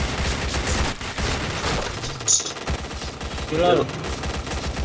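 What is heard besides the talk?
gunfire in a video game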